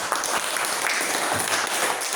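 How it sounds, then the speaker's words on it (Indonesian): Students in a classroom give a steady wash of applause for a classmate's answer. The clapping is close and even and lasts the whole moment without a break. "tepuk tangan dulu kita"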